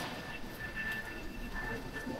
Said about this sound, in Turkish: Trenimiz geldi şimdi.